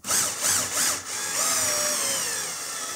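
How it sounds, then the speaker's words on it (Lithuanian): A power drill with a 6 mm concrete bit boring into an aerated concrete (gas silicate) wall, three quick loud bursts of whirring drilling followed by a steadier run that winds down, with no voices. "Pakeičiau į 6 mm betono grąžtą. Pas mane čia dujų silikatas, tai labai lengvai gręžiasi."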